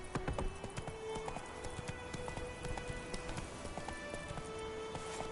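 Roach the horse gallops in The Witcher 3 on PS4, a steady rapid clip-clop of hooves running continuously and close, with a possible faint whinny amid light game ambience.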